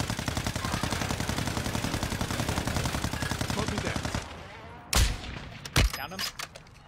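Rapid sustained bursts of automatic gunfire in an online shooter game crackle loudly for about four seconds, followed by a few separate heavy shots, with players' voices chatting over the action.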